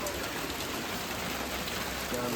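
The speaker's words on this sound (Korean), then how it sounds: "3월 중순에 갑자기 우박이 쏟아졌습니다" Hail pours down in a dense, steady patter on garden surfaces during a mid-March spring storm, loud and continuous, with no voices.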